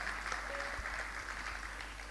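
Faint, steady applause from a theatre audience at a live music programme in Tapadia Natya Griha, Sambhajinagar, a soft continuous patter of many hands heard from some distance.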